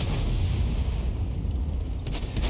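The FV304 self-propelled artillery fires in World of Tanks: a dense, rumbling boom of gunfire fills the clip, with a sharper crack near the end and no voices.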